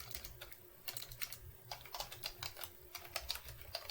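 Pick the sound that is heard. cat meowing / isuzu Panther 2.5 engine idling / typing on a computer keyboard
typing on a computer keyboard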